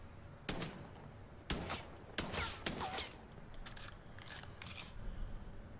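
Gunfire in Mafia 3, heard as a series of sharp, separate shots spaced irregularly over several seconds, fairly quiet and set against low background game ambience with no speech.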